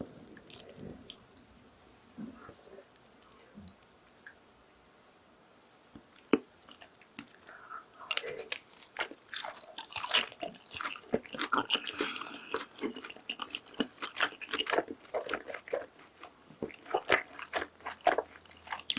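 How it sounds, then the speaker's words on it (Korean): Close, crunchy biting and wet chewing of pork belly and spicy stir-fried noodles dipped in garlic sauce, quiet at first and then a dense run of crisp bites and slurpy mouth sounds with no talking. "엄청 기대되는 이 마늘 소스에도 한번 찍어 먹어볼게요."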